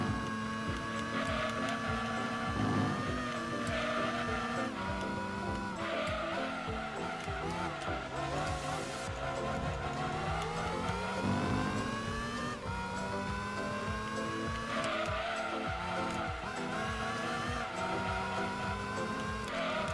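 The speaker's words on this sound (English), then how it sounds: "It's a freaking F1 car," Formula One race car engine in the video game Gran Turismo 2, a continuous loud, high-pitched whine rising and falling through gear changes, with tire squeal and skids mixed in, steady and close throughout.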